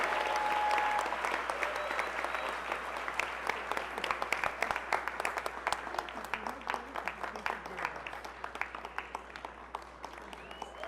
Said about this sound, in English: Another round of applause for Samantha Costa.